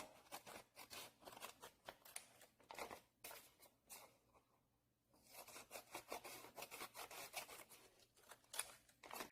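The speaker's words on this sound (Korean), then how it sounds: "선을 따라서 가위로 잘라보도록 하겠습니다" Scissors snip steadily through paper in a quick, close rhythm of crisp cuts, pausing briefly midway before carrying on.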